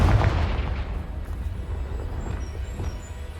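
A Confringo blasting spell explodes in a video game: one loud, close boom at the start with a deep rumble that fades over a few seconds.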